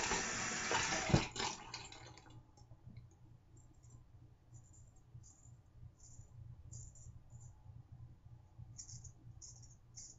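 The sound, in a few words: razor blade rinsed under running water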